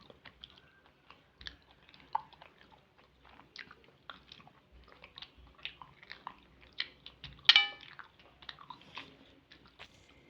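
Close, soft chewing and biting on a vegetarian Bengali lunch of okra with poppy seed paste and pea-lentil fritter curry, with irregular crunchy bites and one sharper clatter, eaten quietly without talk.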